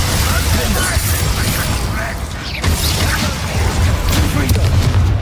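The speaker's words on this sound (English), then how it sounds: "Glacius!" Glacius freezing spell cast in the video game Hogwarts Legacy amid busy combat, with loud crackling, mechanical clanks and booming impacts piling up while voices speak over the action.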